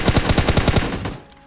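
Rapid automatic gunfire in PUBG Mobile Lite: a burst of about eight loud, evenly spaced shots over one second, then a short fading tail, with no talk.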